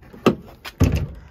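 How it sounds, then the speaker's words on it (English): The tailgate of a 2020 Honda Ridgeline sport model in platinum white pearl folds down with two quick, close mechanical clunks about half a second apart, the second one heavier and longer. "And then the gate will fold down right this way."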